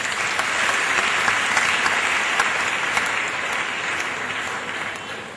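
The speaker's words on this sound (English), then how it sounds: "I think we deserve a round of applause for that." Loud, dense audience applause at a Lagos schools debate event, a continuous wash of clapping from a large crowd that holds steady and tapers slightly toward the end.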